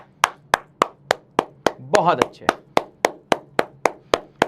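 Students clap in a steady, slow rhythm, about a dozen sharp claps spaced evenly, while a teacher's voice speaks briefly over the middle of the sequence.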